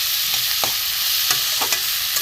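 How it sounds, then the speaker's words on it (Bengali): Spices are fried in a pan for a light katla fish curry with vegetables, giving a loud, steady close sizzle broken by several sharp scrapes of stirring. "মশলাটা দিয়ে দিলাম, দিয়ে একটু ভালো করে কষে নেবো।"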